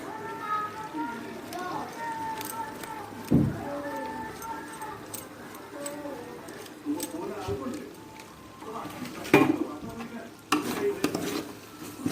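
Paneer masala spices fry in oil in a pan, with a soft sizzle under scraping and clinking from a spoon stirring against the metal, while a voice speaks intermittently throughout.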